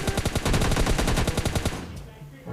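Rapid automatic gunfire in a mobile battle royale shooter game, a dense even stream of sharp shots for nearly two seconds before it cuts off into quieter game ambience.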